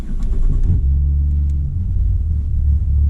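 Ford Falcon FG Turbo engine rumbling at low speed with a deep, steady drone, loud and close, from inside the car as it warms up.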